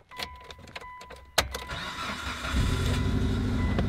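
Modified used car engine cranks briefly, catches with a loud clatter, then settles into a steady, rough, close-up idle that grows fuller toward the end, with no talking.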